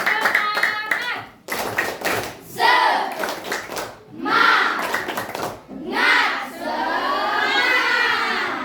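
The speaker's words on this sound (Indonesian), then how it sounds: "Tepuk tangan semuanya" Schoolchildren in a classroom clap in short rhythmic bursts between loud chanted shouts and a teacher's voice, the group clapping close and lively with talk and cheering layered over it.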